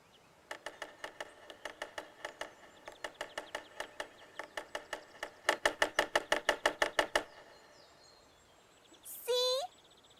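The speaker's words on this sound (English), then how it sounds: "It's a woodpecker. He's looking for bugs for his dinner." Cartoon woodpecker pecking on wood: rapid bursts of sharp knocks in several rhythmic runs, the last run louder and faster, then a brief squeaky call at the end, with no talk.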